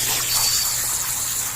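Rinse water runs steadily off a washed car carpet, a close, continuous gushing and splashing flow like a tap or hose with no break.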